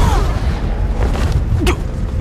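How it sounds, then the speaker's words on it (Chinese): A close-range fire lotus explosion in an animated Battle Through the Heavens fight: a dense, roaring boom with rumbling low end and whooshing bursts, loud and sustained throughout. "火莲那般近距离的爆炸"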